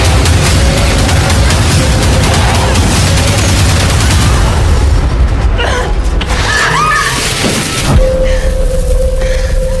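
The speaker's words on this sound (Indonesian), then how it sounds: "lengan Alice pun terluka oleh tembakan dari papan reklame yang melewati pintu keluar minimarket" Sniper gunfire near a minimarket exit, heard as a dense, loud run of booming shots and rumbling blasts across most of the stretch, thinning toward the end with a sustained tonal hum left underneath.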